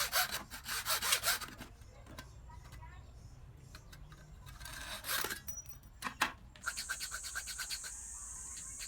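A hand saw cuts about 5 mm off the skirt of a Yamaha DT125 two-stroke piston for a YZ125 build, in bursts of rasping strokes with pauses and scrapes between them.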